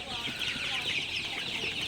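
Sonali super hybrid chickens on their 35th day, at night, cluck softly in a brief burst of farmyard clucking against a steady hiss.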